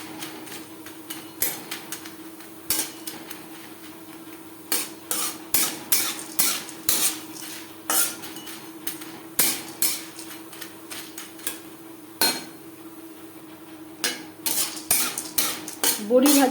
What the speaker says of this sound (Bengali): বড়ি আমি ভেজে নেব।